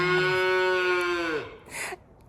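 Mini Highland cows moo in a long, loud, tonal call lasting over a second, followed by a brief rustling noise as it fades.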